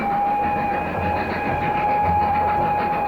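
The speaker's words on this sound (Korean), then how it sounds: "시베리아 열차에 몸을 싣는다" A Trans-Siberian passenger train runs steadily over the rails, with a continuous loud rumble of rolling wheels and a sustained tonal whine from the cars, heard alone with no voices.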